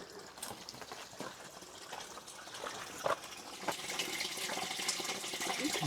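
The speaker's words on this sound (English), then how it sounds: "Hear the water flowing here in the spring of Anin." Water runs steadily through the modern spring tunnel at Horvat Anin, a continuous close gushing wash that swells slightly toward the end, with occasional splashes and no talk over it.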